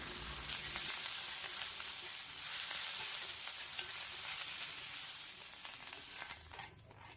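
Moringa leaves sauté in hot coconut oil, giving a continuous, even crackling sizzle throughout with slight fluctuations in intensity.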